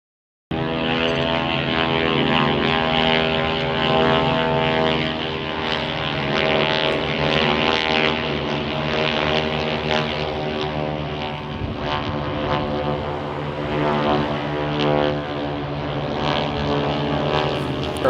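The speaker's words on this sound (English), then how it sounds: "this airplane taxiing up behind us right now" A 1956 de Havilland Chipmunk propeller trainer taxiing at the Sun 'n Fun airshow, its piston engine droning loudly and steadily nearby with a strong harmonic buzz and no talking.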